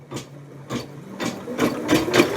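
A Janome MC100E embroidery machine starts stitching, its needle mechanism running in five rhythmic bursts about half a second apart that grow slightly louder toward the end, with a low steady motor hum beneath and no talk.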